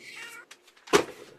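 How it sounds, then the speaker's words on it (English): A cat gives a single short, loud meow, sharp and close, after a stretch of quiet background murmur. "I hear a kitty"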